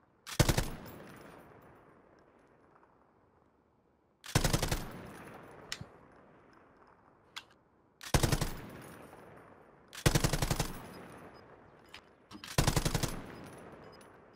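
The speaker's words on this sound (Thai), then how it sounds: "มีคนพยายามยิงพี่ไว้แต่มันอยู่ไหนไม่รู้มันยิงไม่โดน" Automatic gunfire from Call of Duty Warzone arrives in five sharp bursts spread across the stretch, each loud crack dropping into a fading echo, with a few single shots in the gaps and no talk.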